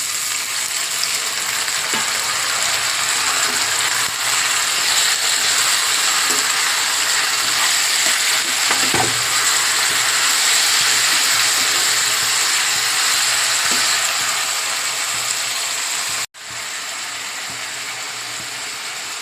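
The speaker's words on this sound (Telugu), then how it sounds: "మన చికెన్ని మంచిగా నూనెలో మగ్గనిస్తాను." Country chicken pieces fry in oil in a pan with a loud, continuous sizzle, dotted with occasional clicks from stirring and a sudden brief drop in the noise near the end.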